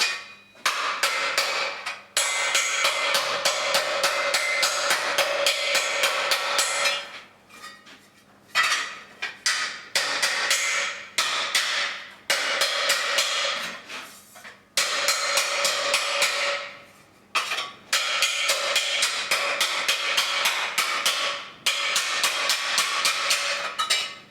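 Repeated metallic hammer blows on a Mk 1 Escort chassis rail ring out in fast bursts, loud and close, with brief pauses between strikes and no talking.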